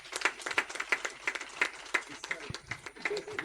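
Scattered clapping from a small audience at a presidential installation ceremony, a loose rhythm of individual claps rather than a full ovation, with voices murmuring underneath.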